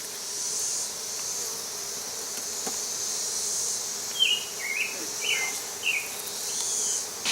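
Honey bees buzz around a hive being transferred with exposed pollen and nectar comb, a soft continuous drone held at moderate distance while a few short bird chirps break in near the end.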